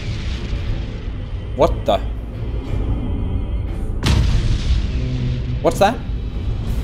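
In the space strategy game Battlefleet Gothic: Armada, a warship strikes a mine and blows apart in a sharp, booming burst partway through, with other brief blasts around it, while players talk and react in surprise.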